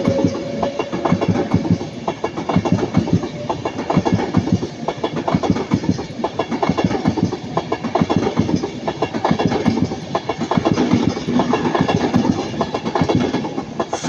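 An Avanti West Coast Pendolino passes at Ardwick, its wheels giving a continuous rhythmic clickety-clack over rail joints with a rolling rumble, steady and moderately close for the whole stretch, no voices.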